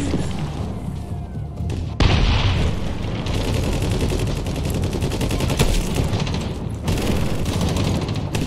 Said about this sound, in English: Eat grenade.